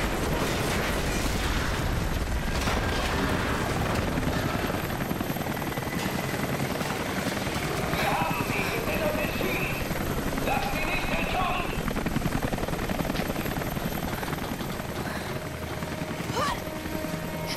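A helicopter in the video game Rise of the Tomb Raider (PS4) thunders close and loud, its steady rotor chop filling the scene alongside bursts and mechanical noises, with someone talking over it.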